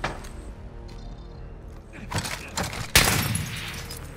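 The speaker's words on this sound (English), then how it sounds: "They're sniping at us." Sniper fire in Call of Duty Modern Warfare lands as sharp, cracking shots, a few loud reports ringing out after quieter clatter, one especially loud crack toward the end, with no voices over them.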